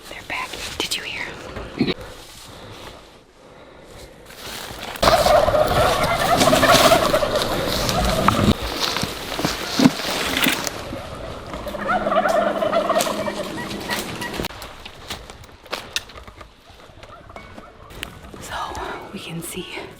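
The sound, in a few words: wild turkey toms gobbling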